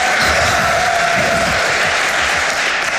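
Dense applause from a livestream audience at a Civilization VII multiplayer event, a steady wash of many hands clapping throughout, loud and continuous with no pauses.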